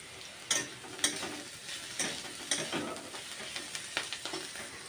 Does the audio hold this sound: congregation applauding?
no